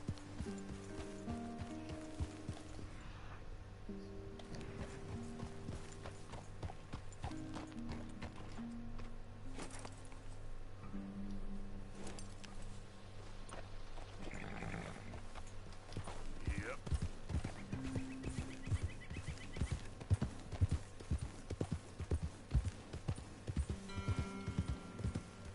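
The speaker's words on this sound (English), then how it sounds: "I'm riding a Mustang right now" A Mustang's hooves clip-clop steadily on the ground while riding in Red Dead Redemption 2, with game music and a voice talking over the rhythmic strikes.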